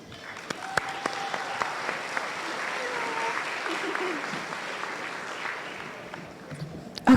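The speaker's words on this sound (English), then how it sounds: "Please give a round of applause to these teachers as they announce each of your students." Audience clapping at the Maui High School 2024 Senior Awards Night fills the room steadily, with a few sharper individual claps and faint voices murmuring underneath.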